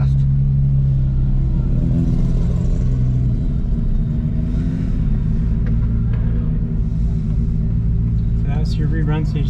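A GT3 car on an autocross run makes a deep, loud engine rumble with shifting revs, and people talk over it throughout.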